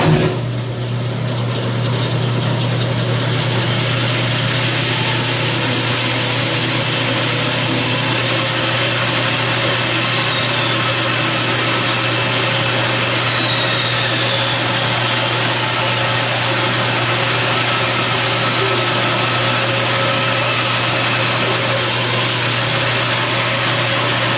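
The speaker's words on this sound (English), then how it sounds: "Cut that out on the bandsaw." A bandsaw cuts wooden oarlock blocks for an Acorn dinghy build, giving a loud, continuous whirring drone with a steady hum that holds unbroken from start to finish, with no voices.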